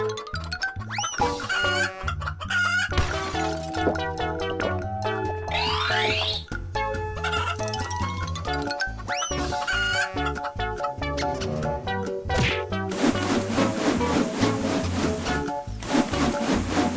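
A cartoon-style chicken clucks over a busy, bright children's music track, the bird call sitting briefly up front before the song carries on with bouncy sound effects.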